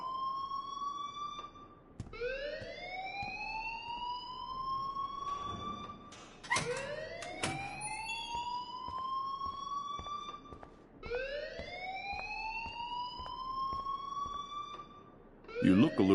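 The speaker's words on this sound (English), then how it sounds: "please turn off that alarm since that's your job" A wailing alarm rises and repeats in steady cycles inside the video game Life is Strange, with faint thuds and clatter between the rising tones.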